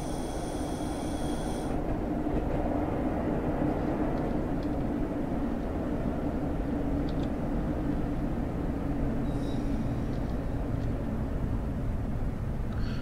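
A Class 101 diesel multiple unit in Train Sim 2021 runs with a steady rumble of engine and wheels on track. Faint high chimes sound near the start and again later.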